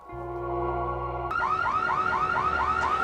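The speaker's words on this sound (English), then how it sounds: "You hear that? That alarm." An electronic alarm starts after a steady low tone, then wails in rapid repeating upward sweeps, loud and close, with no voices.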